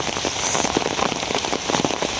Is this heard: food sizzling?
no